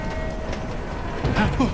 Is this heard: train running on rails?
yes